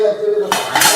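A metal idli steamer pot has its lid set down and closed, giving a loud, close clatter of metal on metal midway through, with a ringing rattle after it.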